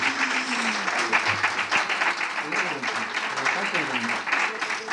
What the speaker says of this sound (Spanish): Pueden aplaudir si lo desean.